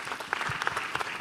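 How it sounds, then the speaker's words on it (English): Audience applause for Paralex Bank at a trade and investment forum, a brief burst of scattered clapping with a few distinct sharp claps, moderately close. "let's give Paralex Bank a round of applause"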